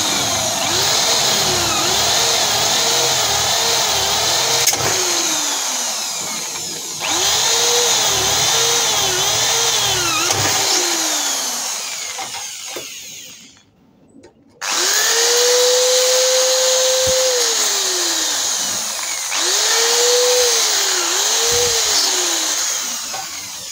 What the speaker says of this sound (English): So I'm gonna drill now.